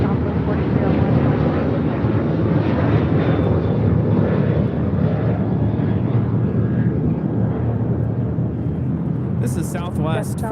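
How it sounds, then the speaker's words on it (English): A Southwest Boeing 737-800 jet on its takeoff roll at LAX bound for Phoenix, a loud steady broadband engine roar that fills the whole stretch, with a brief voice breaking in near the end. "This is Southwest 4301 taking off to Phoenix on a 737-800"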